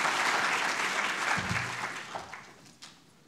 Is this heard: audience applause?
yes